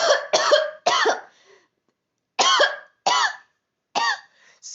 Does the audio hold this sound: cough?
yes